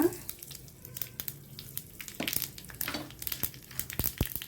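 Mustard seeds and cumin crackle and sizzle in hot oil for a tempering, with scattered sharp pops and spits over a steady frying hiss, close and moderately loud, no talking.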